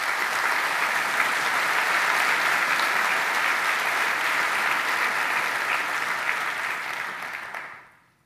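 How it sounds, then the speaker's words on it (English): Sustained applause from a conference keynote audience, a dense even wash of clapping at full strength for about seven seconds before fading out at the end, with no talk over it. "Let's give all of these projects a big round of applause."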